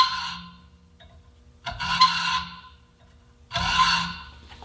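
A hand saw rasps through material in long, full-length blade strokes, three distinct bursts separated by short pauses, close and moderately loud with no talking.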